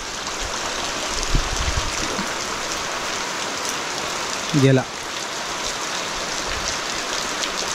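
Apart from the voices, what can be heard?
rain falling in village forest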